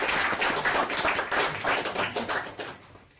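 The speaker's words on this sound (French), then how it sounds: "je crois qu'on peut applaudir nos artistes" An audience applauds the Cziffra piano duo after a performance on a historic 1840 Collard piano in The Hague, a lively burst of hand clapping that thins and fades toward the end.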